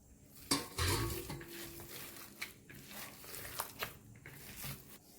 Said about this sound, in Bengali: সব কিছু দিয়ে দিয়েছি, এবার আমি ভালো করে মেখে নেব